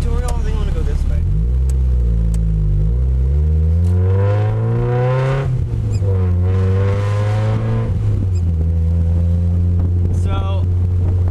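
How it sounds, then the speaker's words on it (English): A manual 1994 Mazda Miata engine drones loudly while driving, its pitch rising and falling through the gears in a steady close hum, with a voice talking over it. "drive a 1994 Mazda Miata, and it's a lot louder than it used to be"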